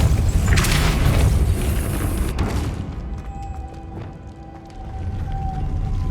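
A Depulso spell is cast in Hogwarts Legacy, set off by a loud booming blast with crashing debris that fades into a ringing, echoing tail over a low rumble.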